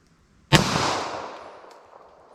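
A single loud gunshot from a .327 Federal firing hard cast loads: one sharp crack followed by a long, fading rumble, with no voices.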